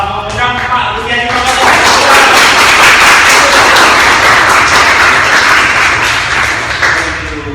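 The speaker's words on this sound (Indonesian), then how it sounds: "Beri tepuk tangan dulu semua untuk mengundang Pak Budiani." An audience gives loud, dense applause to welcome Pak Budiani, the clapping swelling quickly and holding steady for about six seconds before tapering off. Brief voice or music is heard at the very start and end.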